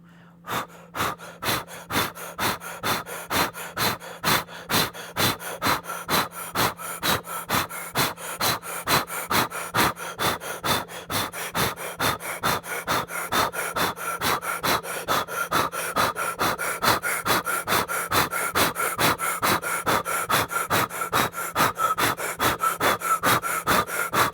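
Forceful yoga bellows breathing, rapid rhythmic nasal exhales repeating about twice a second for the whole stretch, close and loud, sustained with steady pace and no talking.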